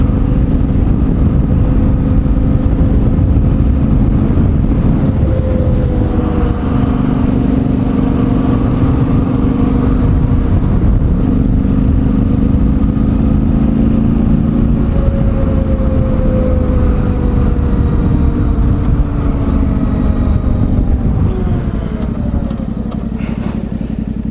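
A Yamaha Tenere 700 motorcycle engine drones loud and close as the bike is ridden, with a steady rumbling note whose pitch rises and falls through gear changes, heard alone without talk.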